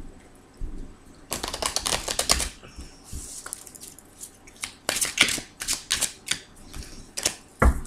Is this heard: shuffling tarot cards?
yes